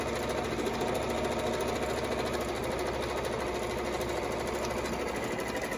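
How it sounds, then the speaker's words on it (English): Sewing machine stitching the pants of a homemade Santa suit, a steady fast mechanical whir running close and continuous for the whole stretch with no talking. "So I'm just gonna sew this quickly."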